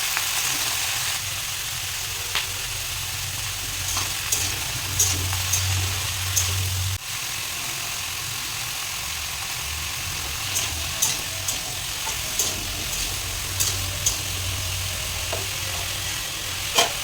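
Black cumin, cumin and fennel seeds sizzle in hot oil with bay leaf and ginger paste, a constant dense crackling hiss marked by occasional sharp spatters and light stirring, close and without voices.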